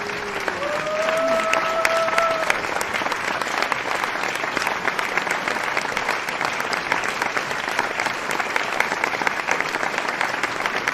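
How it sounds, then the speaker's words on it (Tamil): Sustained applause from an audience at a live concert, a dense steady clapping from a large crowd throughout, with a brief voice or tone rising over it near the start. "ஒரு பெரிய கைத்தட்டல் அடிக்குமாறு அன்போடு கேட்டுக்கொள்கிறோம்."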